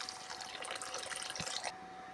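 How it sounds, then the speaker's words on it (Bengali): Water pours steadily into a cooking pot of potatoes as a continuous splashing stream that is faint and close and stops abruptly near the end, with no talking. "অল্প জল দেবেন। যেন আলুগুলো জলে ডুবে যায়।"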